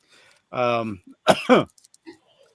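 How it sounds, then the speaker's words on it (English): A short vocal sound followed by a couple of quick, harsh coughs, close to the microphone, then quiet. "So you may hear me cough"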